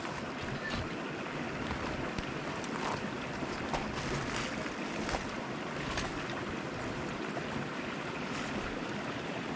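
A cold creek flows steadily outdoors, producing a continuous broadband wash of running water with faint splashes and a light breeze, close and even throughout with no talking.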